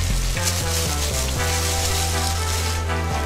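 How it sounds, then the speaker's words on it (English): A flour-coated pork chop sizzles steadily in hot oil on an outdoor Camp Chef, a continuous close frying hiss with faint tonal hum underneath and no talking. "Get our pork chop. Press down, flip it over,"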